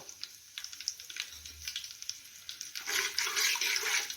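Whole spices (cinnamon, green cardamom, black peppercorns and bay leaf) fry in hot oil for a mixed-vegetable paneer pulao. A light crackle swells into a loud, steady sizzle partway through, close up and with no talking.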